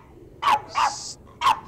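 A small cute dog gives three short, sharp barks, close and loud, in a quick uneven rhythm, with one bark carrying a higher yelping edge.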